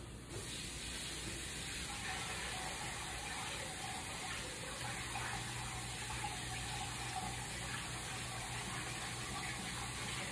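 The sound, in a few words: kettle water poured over cabbage in hot pan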